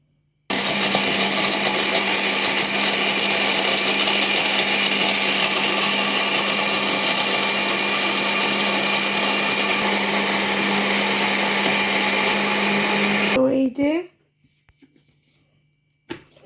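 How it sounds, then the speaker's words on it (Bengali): A dry-spice grinder blender grinds ginger and garlic into paste, a loud, steady whirring motor close by that runs without a break for about thirteen seconds before cutting off, leaving faint clatter. "আর একটা আছে শুকনো মশলা গুঁড়ো করার মানে ব্লেন্ডার এখন দেখি এটা দিয়ে হবে কি না"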